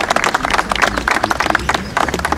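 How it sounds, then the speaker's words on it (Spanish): Outdoor crowd claps during Zahi Hawass's visit to the Temple of Debod in Madrid, a short burst of fairly loud, uneven clapping with some voices mixed in. "Un aplauso."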